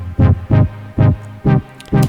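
Five chillwave synth chord-pad hits pulse in a steady rhythm, each swelling and decaying into a reverberant tail at 35% reverb mix, with no voices.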